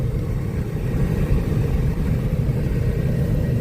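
An old Chevrolet Tahoe being driven, a steady low engine rumble with road noise, loud and continuous throughout without voices.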